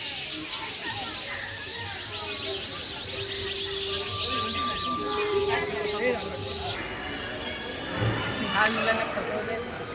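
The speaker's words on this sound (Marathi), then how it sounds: "आवाज ऐकू शकता किती सुंदर पक्ष्यांचा आवाज येतो आजूबाजू" Birds chirp and tweet around Siddheshwar temple outdoors, with people talking throughout and a louder burst of chatter near the end.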